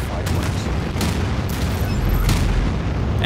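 Nuclear missile strike in the Anno 2205 strategy game: a dense barrage of booming, crackling blasts rolls on continuously, loud and close, with a voice heard over part of it.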